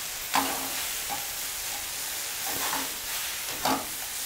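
Udon noodles being stirred in a frying pan, with soft scraping strokes at a few moments over a steady low sizzle, close and fairly quiet with no talk.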